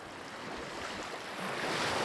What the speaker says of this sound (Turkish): Dalga sesleri adımlarının yerini alıyor.